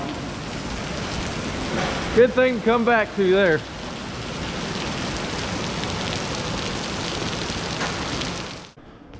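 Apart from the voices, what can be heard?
heavy rain falling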